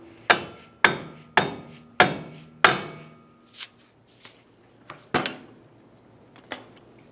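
A hammer taps a bolt through the suspension knuckle on a 2007-2015 Mazda CX-9, giving five sharp metallic strikes in a steady rhythm followed by a few lighter, scattered taps, close and alone.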